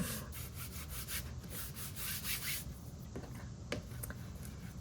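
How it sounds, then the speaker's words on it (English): A bone folder burnishes chipboard for a gatefold mini album cover, producing a soft continuous rubbing and scraping at close range. A few faint taps come through near the end, with no talking. "And burnish."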